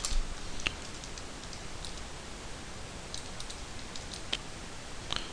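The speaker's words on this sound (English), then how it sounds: "I can just type in zeros here" Sharp keystrokes on a computer keyboard, typing zeros into fields of 3D rigging software: a few isolated clicks spaced seconds apart over a faint hiss, close and alone.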